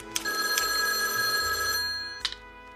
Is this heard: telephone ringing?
yes